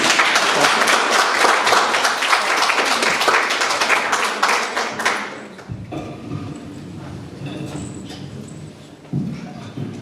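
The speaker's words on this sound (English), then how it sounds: "Round of applause for Renata, please" Applause at a book launch event fills the first five seconds for a musician about to play, a dense, loud round of many hands that cuts off abruptly into quieter room sounds and scattered noises.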